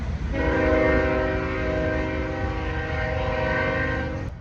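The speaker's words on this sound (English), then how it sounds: "I still love trains." A train horn sounds in one long, loud, sustained blast with steady tones, while the rumble of a passing train continues underneath and the horn cuts off abruptly at the end.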